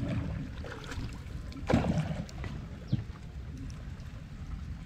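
A small boat moving on a river, with a steady low rumble of water and wind buffeting the microphone and a couple of brief splashing knocks.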